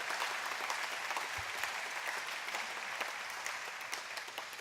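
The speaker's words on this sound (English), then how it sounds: "Can we give a round of applause to both Jen and Matt?" A crowd applauds steadily at a ribbon cutting ceremony for a Stark County campus in Canton, the clapping dense and sustained with no voices over it.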